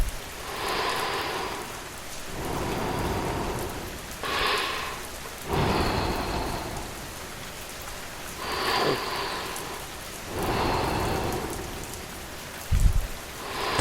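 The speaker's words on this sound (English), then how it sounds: "The rain does not rush." Steady rain falling on a surface, a continuous close hiss, with rolling thunder swelling and fading several times and a sharper crack near the end, no voices.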